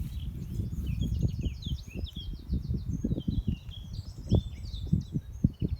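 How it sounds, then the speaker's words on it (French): Birds sing and chirp in a garden, with several high, quick calls overlapping continuously above low rustling and handling noise near the microphone. "J'espère que vous entendez également cette symphonie de chants d'oiseaux."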